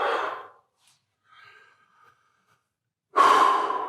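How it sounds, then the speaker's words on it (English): A person exhales audibly during a yoga stretch in a quiet midnight session, with a loud breath at the start, a faint pause, then another strong breath near the end. "And then breathe"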